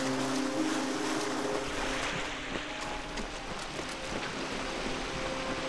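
Ambient river water flowing steadily in the fantasy game Kingdoms of Amalur: Re-Reckoning, a continuous broadband rush with a low tonal hum from the game's soundscape, no talk.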